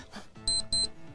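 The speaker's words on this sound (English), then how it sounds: "must have accidentally set the alarm" Two short bursts of an alarm clock ringing, a bright electronic beeping trill that starts, pauses briefly and repeats, loud over a faint musical background in a game show setting.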